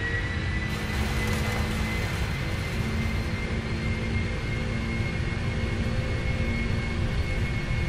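Jet engines of a Boeing 747-400 in a PMDG flight simulator roar steadily during the takeoff roll, a loud, even drone with a high whine running throughout.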